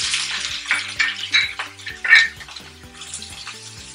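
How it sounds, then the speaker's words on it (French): Onions sizzle after salt goes into the pan for African tapioca, with a loud, close crackle and repeated clinks and scrapes of a spoon stirring against the pan. "On laisse brunir les oignons."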